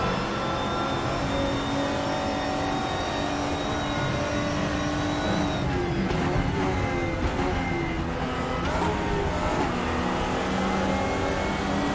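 A Lotus GT4 race car engine screams steadily at high revs around the Monza circuit in a VR racing game, with a brief drop and climb in pitch around gear changes midway, loud and close throughout.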